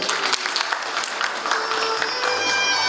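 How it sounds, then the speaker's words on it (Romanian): Audience applause at a business award ceremony for the year's best entrepreneur in Soroca district, dense steady clapping filling the room throughout at close range. "Aplauze!"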